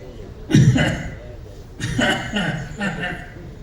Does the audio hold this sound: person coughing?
yes